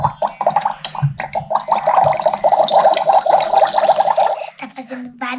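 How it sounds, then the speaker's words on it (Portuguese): Water is poured into a Magic Mixies toy cauldron, making a steady bubbling, gurgling gush for about four seconds that ends abruptly, with a voice present in the background. "agora vamos encher isso daqui de água e despejar tudo no caldeirão."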